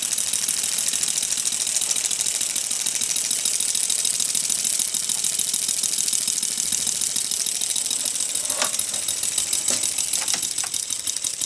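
A scratch-built gauge 1 live steam locomotive runs on gas with its pressure turned down, giving a steady close hiss and fine rapid ticking chuffs throughout, with a few sharper clicks near the end.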